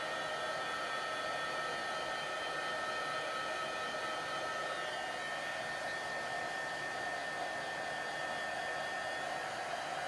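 A heat tool blows hot air onto ink, giving a steady, loud, continuous whooshing roar with an even motor whine throughout and no talking.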